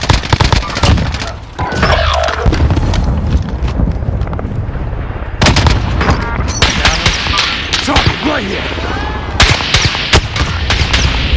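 Rapid bursts of gunfire crack through a Call of Duty Warzone match, loud and close, with clustered volleys and pauses between them and a brief lull near the start.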